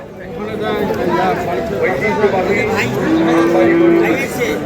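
Sahiwal bulls moo and low nearby amid a busy cattle market crowd, with one long sustained bellow standing out over steady chatter and background noise.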